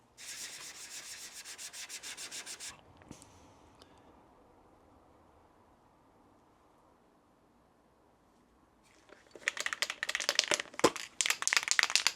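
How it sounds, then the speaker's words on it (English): Abrasive pads rub back fresh paint on an L322 Range Rover during accident repair, a steady rhythmic scrubbing at the start, a quiet pause, then a busier burst of uneven strokes toward the end. "I'm going to flat this back using the abrasive pads again, ready for top coat"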